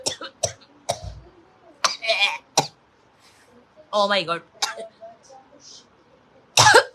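A person coughs and clears their throat several times in short, close bursts, with talking in between.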